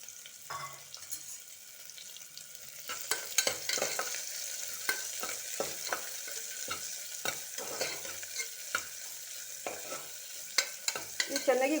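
Chopped medium-size onion frying in a pan for a vegetable pulao, a soft steady sizzle punctuated by repeated scraping stirs of a spatula, close and fairly quiet, with no talking.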